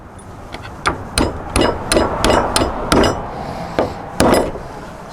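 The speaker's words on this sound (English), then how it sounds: "you can simply drive your 3 carriage bolts right up through again" Hammer driving three carriage bolts up through a rustic wooden sliding barn door, a series of about ten sharp, loud, close strikes with a woody ring, some in quick pairs and others spaced apart.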